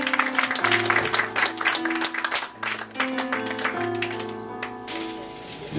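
Audience applauding at a tribute to a Québécois poet, clapping blended with piano or keyboard music that plays on beneath it for the whole stretch.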